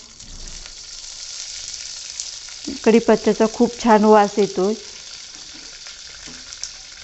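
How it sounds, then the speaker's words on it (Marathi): Curry leaves dropped into hot oil in a kadhai give a steady, close sizzle and crackle that runs throughout, while someone speaks over the middle part. "तेल गरम झालं की आपला कढीपत्ता टाकायचा आहे फोडणीला"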